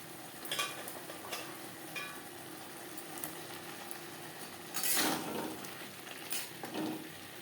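Chicken with carrot and capsicum stir-fried in a pan for chow mein, with a soft steady sizzle under scattered scraping strokes of a spatula and a couple of louder stirring bursts near the end, no speech.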